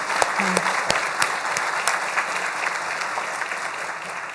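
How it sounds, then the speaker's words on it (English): Audience applause fills a breakfast event hall, a steady wash of many hands clapping at moderate volume for several seconds, with a few sharper individual claps standing out near the start. "Can we give those students and their advisor a round of applause?"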